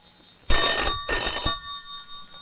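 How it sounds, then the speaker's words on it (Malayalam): A telephone bell rings in two loud, rattling bursts separated by a short pause, close and clear in an otherwise quiet room. "ഫോൺ ബെല്ലടിക്കുന്നത് നിനക്ക് കേട്ടൂടെ"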